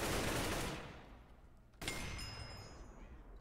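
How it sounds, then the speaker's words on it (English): A single sharp sniper shot cracks out in an online shooter game, loud and sudden, over a fading rumble of earlier gunfire and a lingering ringing tail. "Wow, I just got sniped in the head"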